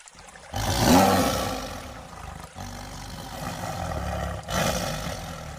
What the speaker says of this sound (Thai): เสียงคำรามที่ฟังแล้วไม่เหมือนเสียงเสือทั่วไป มันต่ำ ลึก